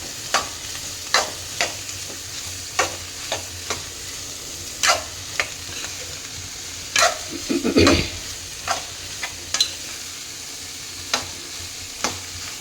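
Pumpkin and cooked onion for a palya are stirred in a pan, with regular scraping strokes about once a second over a soft sizzle and a louder clatter of utensil on pan midway.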